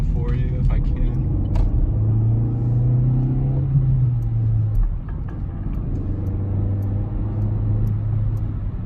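A 2020 Chevrolet Spark driving, its low engine and road rumble droning steadily throughout, with a brief rise in engine tone mid-way and faint clicks near the start; a voice hums or speaks softly over it.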